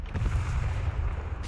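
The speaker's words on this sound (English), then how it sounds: "Oh my god, the new item is airstrike!" A deep, rumbling airstrike explosion from the Fortnite video game rolls on for over a second as a loud, sustained low boom with no talking.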